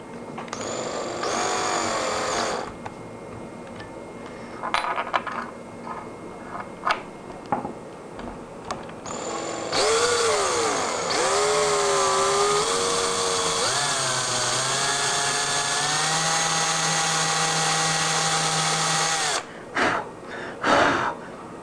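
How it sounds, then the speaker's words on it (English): A power drill whines steadily while drilling a pilot hole for a guitar tremolo stop, spinning up and down in bursts with short pauses, then running longer with shifting pitch before stopping. "you're going to grab your drill, and it's just to drill a pilot hole"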